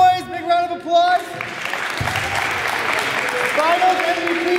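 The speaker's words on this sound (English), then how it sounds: "And our winners, Roundboys, big round of applause." A crowd at a men's free agent basketball league final applauds the winning team, with shouts and cheering voices mixed into steady clapping that builds after a second and holds throughout.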